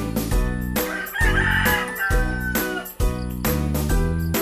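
A rooster crows in loud, drawn-out calls, one after another, over a busy background with no one speaking.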